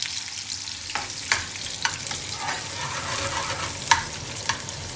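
Onions sizzle and fry in a pan for chicken tikka chilli, a steady close hiss with scattered sharp spatula scrapes and taps on the pan.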